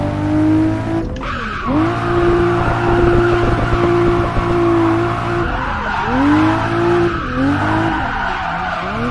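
Tires squeal in a car drifting through corners in the racing game Assetto Corsa, the handbrake pulling it into a slide, with a steady loud engine drone throughout and pitch swoops as the revs rise and fall.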